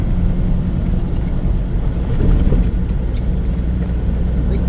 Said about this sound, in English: Big purple truck.